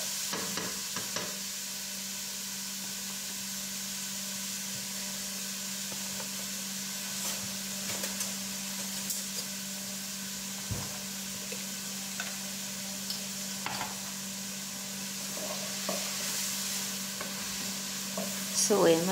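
Onions sizzle steadily in a hot pan as they fry toward golden brown, with occasional light scrapes and taps of stirring over a constant hiss, close and moderately loud with no talking.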